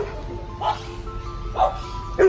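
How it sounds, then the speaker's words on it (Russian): Dogs bark in short, separate bursts at an off-leash, sand-covered dog park in Barcelona, three clear woofs spaced about a second apart, with a voice talking underneath. "гуляют счастливые хозяева, бегают песики."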